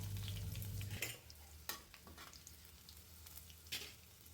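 Tempering seeds crackle and sizzle in hot oil with fried green chilies for an okra stir-fry, a steady close frying hiss broken by a few sharp stirring clatters.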